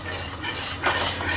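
A whisk stirs a chicken pasta bake sauce in a pan to break up lumps, giving a steady close scraping swish with one louder stroke near the end.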